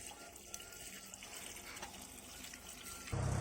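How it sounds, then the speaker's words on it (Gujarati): Diesel poured into a tractor's fuel tank in a field, a steady liquid gush with no one talking, growing louder and heavier in the final moments. "આયરું ડીઝલ નાખી દઈએ અંદર."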